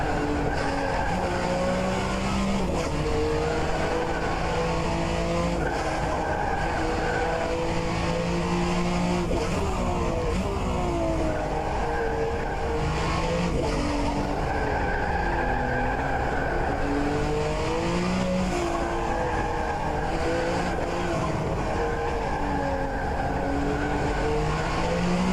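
Group C sports race cars roar around NOLA Motorsports Park, engines loud and continuous with rising and falling revs as they pass, tires squealing through corners, with no break in the noise.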